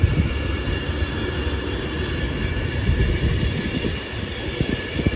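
A train passes through Stafford station bound for London Euston, a close, steady low rumble of wheels and carriages that swells slightly midway and runs unbroken for about five seconds with no voices.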